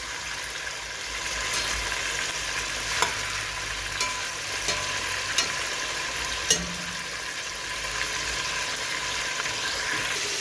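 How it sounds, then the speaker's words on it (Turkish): Ingredients for an Uzbek meat soup are sautéed and stirred in a pan, giving a steady broad sizzle with a few brief utensil clicks and scrapes throughout. "İlk önce kavuracağım sonra ekleyeceğim arkadaşlar malzemelerimi"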